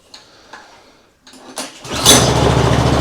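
The lawn mower engine on a homemade outboard is pulled over with a few short cranking clicks and rattles, then catches and roars into a loud, rough running note close by.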